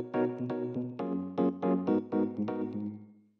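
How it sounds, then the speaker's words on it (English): Ableton's EP Faceplant, a Rhodes-style electric piano in an organic house track, plays warm sustained chords in a gently syncopated rhythm, close and clear with no other sounds, ringing out to silence at the end. "It's a pretty good kind of like Rhodes electronic piano type of sound"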